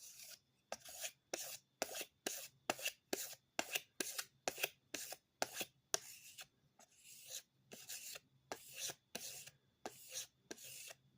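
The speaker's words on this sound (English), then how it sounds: "Quick strop on a piece of cardboard." A stainless pocketknife blade is stropped on a piece of cardboard in quick, regular back-and-forth strokes, each a crisp, close scraping rub repeated about twenty times with short gaps between.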